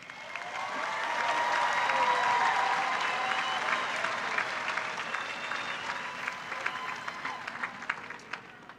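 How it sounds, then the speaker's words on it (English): Parents at a high school graduation ceremony break into sustained, full applause from a large crowd, swelling quickly and holding steady with a few scattered voices mixed in. "Parents, let's give them a round of applause."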